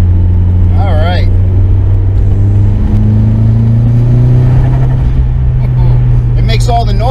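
A turbocharged SR20DET engine in a 240SX Silvia drift car drones loudly close by and builds as it revs, with a rising whine and turbo whistles briefly chirping over the steady roar.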